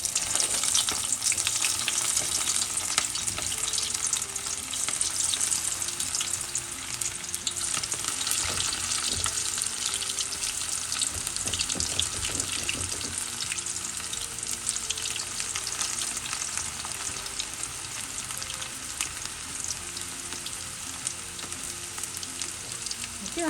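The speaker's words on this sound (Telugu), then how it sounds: "సో దాంట్లోకి నేను ఇప్పుడు తయారు చేసుకొని పెట్టుకున్న ఇది ఉంది కదా బ్రోకలీ పీసెస్ అందులో వేసేస్తున్నా." Broccoli pieces for crispy broccoli manchurian fry in hot oil, a continuous bright sizzle and crackle of bubbling oil that stays fairly even and unbroken, with no voices.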